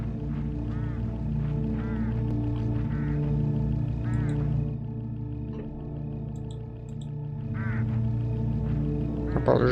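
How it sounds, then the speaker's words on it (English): Crows caw repeatedly in the Hitchhiker mystery video game, several raspy calls in loose succession, a few overlapping, over a steady low rumbling background. "Get enough of these crows together and it's big trouble."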